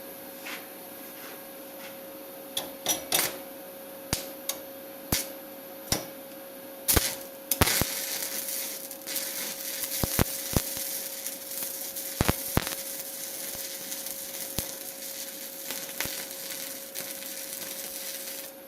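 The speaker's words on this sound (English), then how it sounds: "Just got to be careful with doing this with stick welding because you get slag in the middle" Stick welding a part for a steering system, a steady buzzing arc hum broken by sharp clicks and crackling pops, continuous and close, with no talking.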